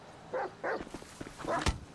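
A dog in a video game barks and yelps in several short, sharp bursts at close range, then lunges with a final louder snarl, with no talk over it.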